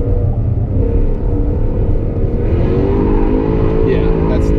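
A Jaguar F-Type R engine drones loudly and continuously as the car circles a figure-eight track, its pitch rising and falling with the throttle.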